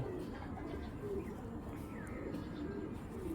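A female Giribaz flying pigeon coos in a loft, low steady murmurs under constant background hum.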